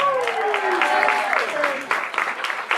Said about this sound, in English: Keep that going one more time for Chris